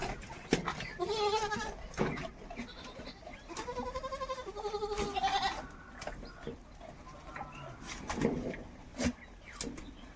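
A young Karli Kota breed male goat bleats repeatedly in wavering, nasal calls at close range, with scattered clicks, rustling and low thumps around them.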